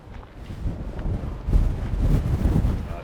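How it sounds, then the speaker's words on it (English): Strong wind gusts batter a handheld camera gimbal outdoors in Las Vegas, producing a deep, rumbling microphone buffet that swells louder in the second half. "Feel the gimbal having to fight the wind."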